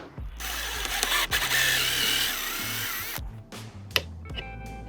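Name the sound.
drill with dowel-cutting bit cutting wood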